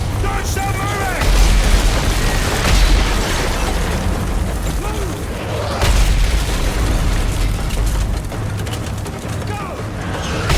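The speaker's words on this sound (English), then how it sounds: "Mortar incoming!" Mortar rounds land in heavy, booming explosions during a rainy combat mission of Call of Duty: Modern Warfare 3 (2011), with loud rumbling blasts over dense battle noise and shouted voices.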